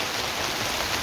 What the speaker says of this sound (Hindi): हाँ तो भाई बारिश आ गई यहाँ